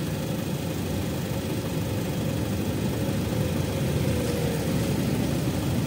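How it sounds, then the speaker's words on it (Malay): A Proton Saga with a 1.5L I-GT engine idles with the air conditioning switched off, giving a steady, even low hum that stays constant throughout with no voices. "So kita try offkan aircon, nak dengar bunyi enjin dia macam mana"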